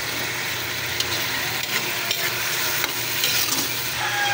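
Broccoli, carrots, thickly sliced onion and chili stir-frying in a pan, a constant loud sizzle with occasional scraping and clinks of stirring, close up and without talk.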